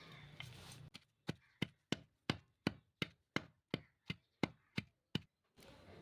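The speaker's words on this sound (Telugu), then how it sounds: "ఇలా బాగా దంచుకోవాలి, స్మాష్ చేసుకుంటా" Jujube fruit being pounded by hand in a kitchen for regi vadiyalu: about a dozen sharp, evenly spaced thuds land roughly every third of a second, close and crisp against near silence.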